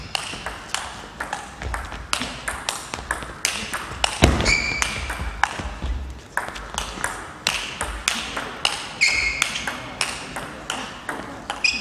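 A fast table tennis rally in a German Bundesliga match in a hall with about 600 spectators: a long, steady run of sharp, bright pings as the ball alternates between bats and table, with crowd murmur and a commentator's voice underneath.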